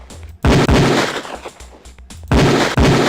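Loud, sharp pistol shots crack at a police shooting range in the video game Police Quest 4, spaced in a few close bursts with brief gaps between them.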